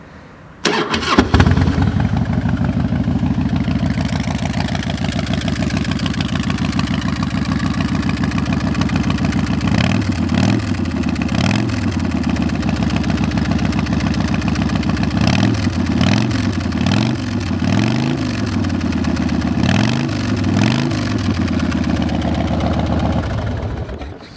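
A 2005 Harley-Davidson Fat Boy with 14,000 miles fires up and settles into a loud, close, lumpy idle, with throttle blips near the middle and again toward the end.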